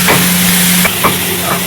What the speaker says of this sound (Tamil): ஆயில் ஊற்றி நல்லா வதக்குறாரு.